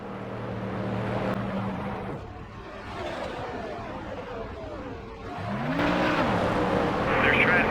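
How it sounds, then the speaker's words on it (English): A race car in NASCAR Thunder 2003 slows into the pit lane, its engine drone rising and falling with a whining pitch change near the end. Someone talks over it throughout. "We're going to come into the pits here."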